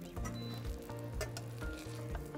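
An omelette sizzles and fries in oil in a pan, giving a steady crackling hiss throughout, close and fairly loud, with no talking and a low rhythmic background hum.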